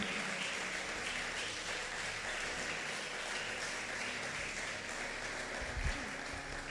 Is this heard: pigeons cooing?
no